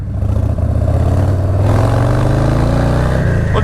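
A 2020 Harley-Davidson Low Rider S with a Stage 1 setup revs as the throttle opens, its loud, deep V-twin rumble climbing steadily in pitch, close and continuous with wind and road roar.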